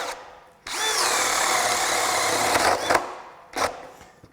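Craftsman brushless hammer drill on a 9 amp-hour battery at level 2, boring a hole with a 1-inch spade bit: a loud whining spin of about two seconds that bogs and stops, then a brief second burst.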